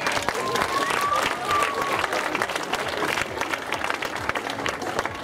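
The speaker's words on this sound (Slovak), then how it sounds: "Ešte raz jeden potlesk" Crowd applause for runners at a trail race awards ceremony, steady clapping from a gathered audience filling the whole stretch, with a brief whistle-like tone near the start.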